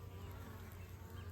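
Swarm of honey bees in West Virginia, a faint continuous droning buzz of many wings humming together at low volume, steady with no voices.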